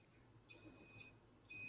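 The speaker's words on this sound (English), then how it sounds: "Alarm clock going off, man." An alarm clock goes off with two loud, high electronic beeps of about half a second each, separated by a short pause, and no voices.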